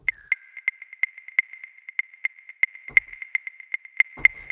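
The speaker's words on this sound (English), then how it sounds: "This one is a kind of wood percussion that sounds like this." An Afro House wood percussion drum preset taps out a fast, steady run of bright, dry woody clicks at moderate level. Two deeper knocks land near the end.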